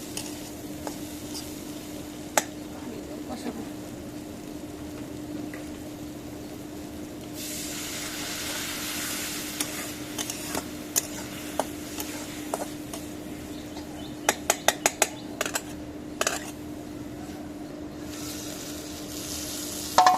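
Dried fish curry sizzles and sautés in a pan while being stirred, a soft steady frying hiss that swells after a quiet start, with scattered scrapes and clicks of the utensil.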